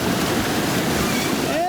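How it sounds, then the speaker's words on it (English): Whitewater rapids on the New River at Lower Railroad in the gorge, a steady, loud rushing roar of churning water that stays constant throughout, close to the listener. "Virginia style surfing action here at Lower Railroad."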